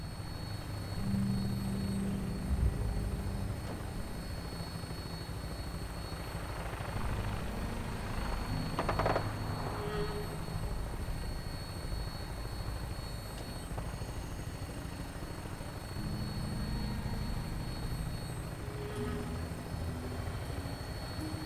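Aircraft on final approach in Fallout 4, a continuous rumbling engine drone with a rotor-like throb, steady and moderately loud throughout with no voices.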